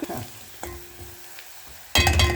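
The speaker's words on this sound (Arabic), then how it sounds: "ودي هعمل البصلة واحط اللحمة المفرومة وتتسوى كده تتسبك" Chopped onion and minced meat frying in a pan as the filling for a phyllo tray bake: faint, quiet stirring at first, then a sudden loud burst of sizzling toward the end.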